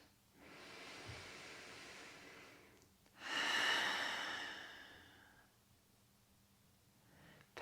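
A person breathes deeply while lying in a restful yin yoga pose with hands on the belly, taking a long soft inhale followed by a louder, sighing exhale, close and intimate with quiet between breaths.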